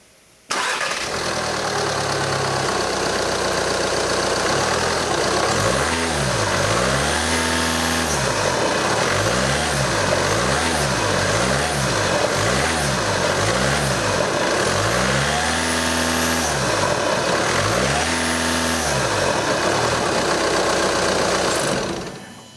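A 2012 VW Jetta 2.0L TDI diesel fitted with an AFE Stage 2 cold air intake starts up, settles to a clattery idle, then revs repeatedly in rising and falling sweeps, loud and close with no voices.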